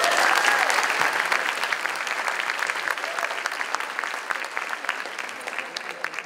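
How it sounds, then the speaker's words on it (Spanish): Applause from an audience at a student leadership showcase event in Puerto Rico, a dense patter of many hands clapping that starts strong and slowly thins and fades over several seconds. "¡Es un aplauso!"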